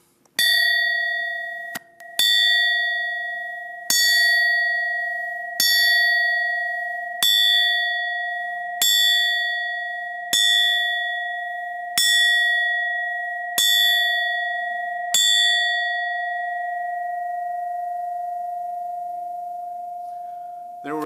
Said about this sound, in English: There were some nicer looking bells, veterans who were artists from the start, but mine had a better sound.